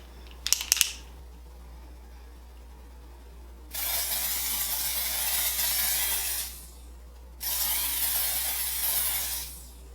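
Dior Airflash Radiant Mist setting spray for fair to light skin sprayed in two long, loud hissing bursts of several seconds each, after a few small clicks from the can, close to the listener and with no talking.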